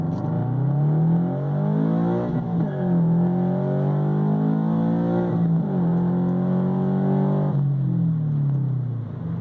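A 2013 Subaru BRZ runs at full throttle in first gear from 2,000 RPM on a dyno, giving a loud, sustained engine roar that sweeps up in pitch and drops back several times, with no voices.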